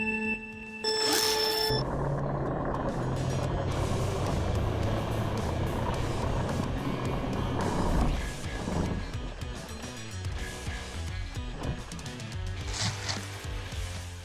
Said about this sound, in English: This time I was still pressing the throttle mid-air, which means when it came down, the spinning tracks hit the ground